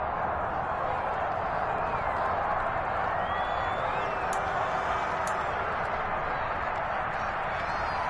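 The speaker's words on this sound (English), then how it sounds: "Plenty of shouts from this crowd as they watch the replay." A stadium crowd at a football game shouting as a replay is shown, a dense, continuous roar of many voices with no pauses, filling the whole stretch.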